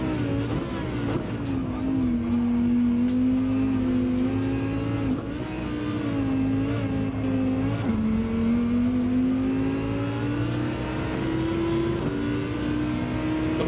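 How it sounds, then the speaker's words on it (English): A Porsche race car in Gran Turismo 7 at Suzuka accelerates hard, its engine a steady loud whine climbing slowly in pitch with brief dips at gear changes, continuous throughout. "The Porsche is accelerating."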